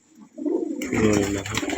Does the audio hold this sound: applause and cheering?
no